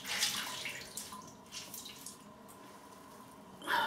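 Tap water runs steadily at a sink while a face is rinsed during a wet shave, a soft continuous splashing with brief bursts of louder spray near the end, close by and without talk.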